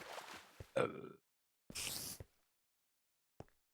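A person burps during a Minecraft gaming session: a short throaty eructation near the start, a second longer rumbling burst about a second later, then a brief final grunt, close to the microphone in a quiet room.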